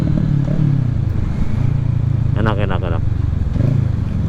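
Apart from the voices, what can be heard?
motorcycle with aftermarket exhaust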